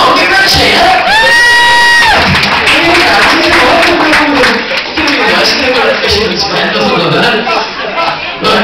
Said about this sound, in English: Come on, give her a cheer.